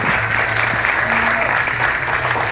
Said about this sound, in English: Let's have a rousing round of applause for each of our talented Jack Mercer Brass